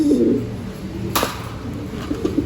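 Golden MacArthur racing pigeons coo in a loft, soft low murmurs at the start and again near the end, with a brief sharp knock in between.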